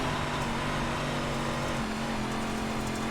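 Engine of a 358 Modified dirt race car in the iRacing game, a steady low drone that bogs down without revving up, continuous and mid-loud throughout with no voices.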